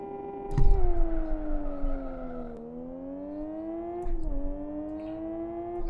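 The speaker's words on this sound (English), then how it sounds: "At least the sound of this car never disappoints." An FZ5 car in the racing game Live for Speed, engine droning steadily with clear harmonic whine, rising and falling as it shifts and accelerates around Westhill International circuit, loud and close with no talk.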